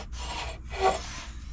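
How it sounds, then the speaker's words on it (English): A ring hollowing tool is sharpened by hand, giving two short, close rasping strokes of steady scraping with a brief gap between them. "it's very simple to sharpen like this"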